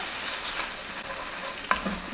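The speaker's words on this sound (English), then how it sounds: "You gotta fry the sauce." Vegan black bean sauce fries in oil in a pan with a steady close sizzle, while a utensil stirs it with soft scraping and one brief sharp tap near the end.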